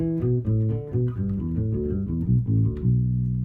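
A bass line climbing and falling in consecutive fourths through a pentatonic scale, played as a steady run of distinct sustained notes, close and clear with no talking.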